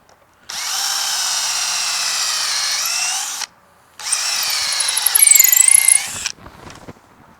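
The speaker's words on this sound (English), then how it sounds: "And then pull it off and just continue drilling this through." A power drill whirs steadily through a wooden wheelbarrow handle in two long runs separated by a short pause, ending with a few clattering knocks.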